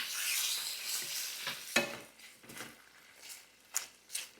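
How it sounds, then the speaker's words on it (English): Pork strips stir-frying in a pan, a soft steady sizzle with intermittent scraping stirs and a few sharper clinks, fairly quiet and close with no talking. "I'm just going to stir fry these until they're nice and golden brown"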